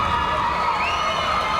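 A high school volleyball crowd in a gym cheers and shouts steadily at fairly loud level throughout, a sustained roar of voices without individual words standing out.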